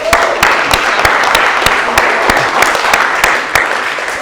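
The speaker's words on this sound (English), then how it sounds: "Round of applause to you guys" Audience applause at a performance coaching session after a training drill demonstration, a steady wash of clapping with several sharp, loud individual claps standing out, sustained for about four seconds.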